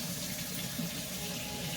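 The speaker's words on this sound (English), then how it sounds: "but I bought a faucet that's on a spring." Water pouring steadily from a spring-loaded kitchen faucet into a sink, a close, even gushing hiss that holds without a break.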